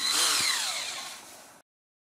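A Parkside PTBSA 20-Li cordless drywall screwdriver backs a screw out of plasterboard in a single close, high-pitched whir that slides downward in pitch and then cuts off abruptly.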